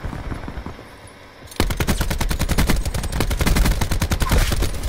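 Rapid automatic gunfire from a Black Ops 4 match, with an ICR-7 assault rifle and many players shooting at once at a window, erupting after a quieter opening and continuing as dense, loud bursts of shots to the end.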